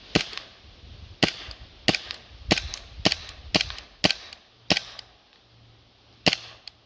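A KWC P08 Luger blowback air pistol fires about ten sharp, loud shots in an uneven rhythm, each crack followed by the clack of the blowback action, with short pauses between shots and no talking.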